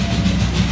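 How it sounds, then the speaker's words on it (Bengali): Darjeeling toy train passing the Ghum Monastery gate, a loud close low rumble and engine drone, steady throughout. "ট্রেন আসছে, আপনাদের দেখাতে পাচ্ছি, আওয়াজ পাচ্ছেন হয়তো।"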